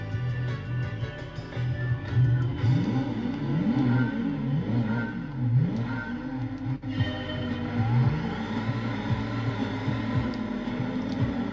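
Retro video game race with synthesized racing car engines revving and wavering continuously, pitch sweeping up and down through gear changes at a steady loud level.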